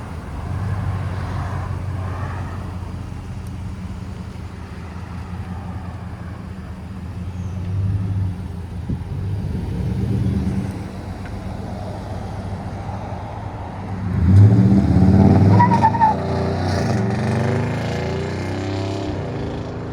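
A yellow Nissan Titan pickup with a 5.6-liter V8 and Borla ProXS exhaust idles with a deep, steady burble, then is revved up in a louder roaring burst before settling back to a rumbling idle.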